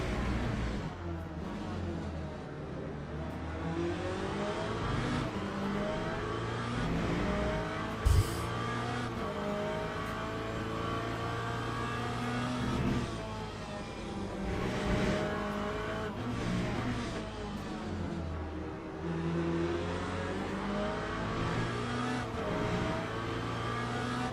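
A Corvette race car engine in the Le Mans Ultimate racing game at Portimao drones continuously, rising and falling as it revs through gear shifts, with the pitch sweeping up and down and a brief sharp click partway through.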